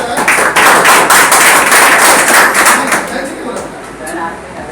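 A classroom audience of students breaks into loud, dense clapping that fades slightly toward the end.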